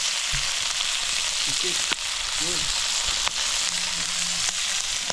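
Garlic frying in a pan, a steady broad sizzle running throughout with a few soft clicks and faint stirring knocks, heard close with no talk over it.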